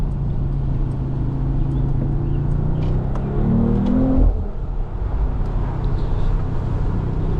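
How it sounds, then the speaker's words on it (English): Turbocharged engine of a 2025 Mercedes-AMG CLE 53 Cabriolet pulls hard under acceleration, a loud steady drone that climbs in pitch before easing off, heard from inside the car with no talking. "You can really hear that turbo when you're on it in the Sport Plus modes"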